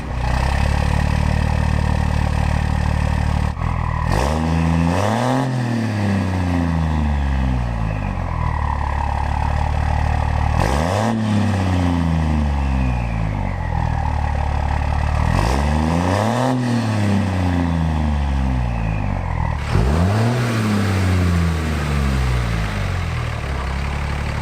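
A truck engine revs hard in four loud, rising-and-falling bursts, each climbing sharply in pitch and dropping back to a steady idle between them, close and alone with no talking.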